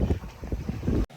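A sailboat runs across Monterey Bay with the wind on the beam and little swell, heard as a brief, steady roar of wind buffeting the microphone over low water rush, ending in an abrupt cut.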